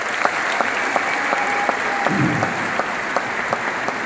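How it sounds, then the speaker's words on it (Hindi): Applause from a large crowd of distributors at a marketing event in a Delhi stadium, a broad roar of clapping with sharp rhythmic claps cutting through at regular beats, lasting throughout. "तो हमारे डिस्ट्रीब्यूटर लोग इनके लिए जोरदार ताली बजाएं।"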